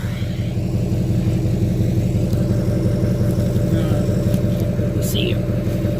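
A 2006 Duramax LLY diesel truck engine with an MBRP exhaust rumbles deeply at a cold idle, steady and close, with only a slight rise in revs.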